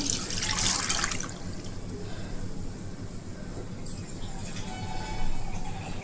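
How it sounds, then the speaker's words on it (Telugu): Water runs and splashes steadily into a container, louder at the start and again near the end, with faint clinks in the background. "నెక్స్ట్ దానిలో వాటర్ పోసుకున్నాను"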